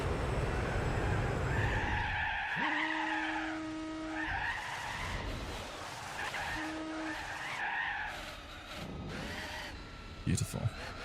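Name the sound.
car engine buzzing and rumbling in video game Gran Turismo 4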